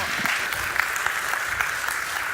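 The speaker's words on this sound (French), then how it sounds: "on l'applaudit ensemble." A church congregation applauds together, steady dense clapping filling the space throughout at a moderate, even level.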